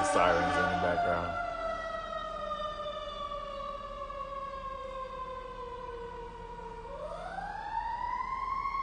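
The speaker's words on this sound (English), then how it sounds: "Excuse the sirens in the background." A long, wailing siren sweeps slowly down in pitch and then rises again, steady in the background, with a brief burst of talk at the start.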